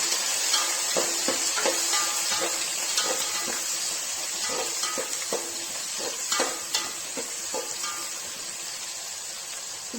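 Chopped onion and slit green chillies fry in a pan with a continuous close sizzle, broken by repeated scrape-and-clink strokes of a spoon stirring at an uneven pace.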